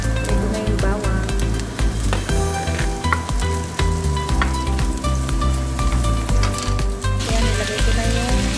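Garlic fries in a pan for pancit noodles with a loud, steady sizzle and crackle, and occasional stirring scrapes. Music plays along with it.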